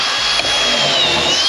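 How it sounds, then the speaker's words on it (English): A power drill bores into a ski to mount the bindings, a loud, steady high whine that holds without a break, close to the microphone and with no talk over it. "Now I can drill."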